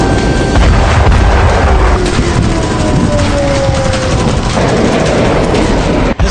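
Explosions from Hezbollah drone and rocket attacks on the Israeli city of Safed: loud, sustained, rumbling booms that roll on without a break, with no speech heard.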